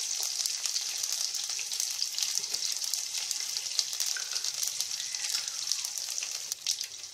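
Curry leaves and coriander leaves sizzle and crackle steadily in hot oil after mustard seeds have popped, a close, continuous frying hiss for onion gojju tempering with no talk.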